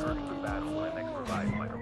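Car tires squealing in a skid in the mobile game Call of Duty Mobile, a wavering high screech over engine noise, with someone talking over it.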